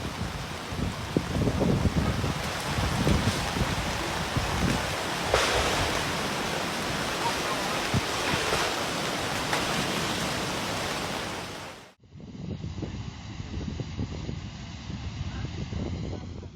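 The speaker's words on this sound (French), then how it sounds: "La rivière sort de son canal en béton, disparaît dans des cavités souterraines et constitue une menace pour les zones environnantes." Floodwater from a river bursting out of its concrete channel roars as a loud, steady wash of rushing water, continuous and broadband, cutting briefly before resuming with a similar torrent.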